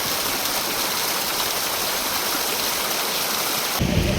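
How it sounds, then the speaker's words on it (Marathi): Light rain falling outdoors at Lonavala, a steady, dense hiss of water that holds evenly throughout with no voices, shifting in tone near the very end. "हलका हलका पाऊस पडतोय"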